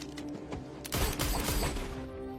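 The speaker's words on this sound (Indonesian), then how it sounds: "Melihat itu dengan cepat May langsung mengambil senjata Alex lalu menembakkannya ke Alex" Gunshots fired at a man in a film, a short cluster of sharp cracks after a quieter moment, fairly close and loud over a low background.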